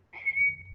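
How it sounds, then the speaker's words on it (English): A person whistling one clear, sustained high note, close and alone, lasting under a second and fading out at the end. "If anybody says whistle, I just whistle."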